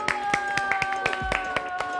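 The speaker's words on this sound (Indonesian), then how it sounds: "berikan tepuk tangan yang gemuruh" A small studio audience claps on a food show, a handful of sharp, close claps in an uneven rhythm over a steady background tone.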